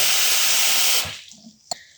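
Water runs from a tap into a bowl of rice for washing, a loud hissing stream that cuts off after about a second, followed by a faint splash and a short knock.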